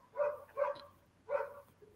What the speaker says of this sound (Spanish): ¿Quién está ladrando